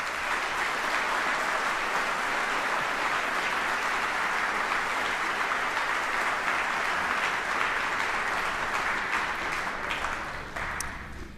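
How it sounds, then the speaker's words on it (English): Sustained audience applause at a Department of the Army retirement ceremony, a broad, even wash of many hands clapping that carries steadily for over ten seconds before thinning at the end. "Please join me in a round of applause for the families of these great retirees."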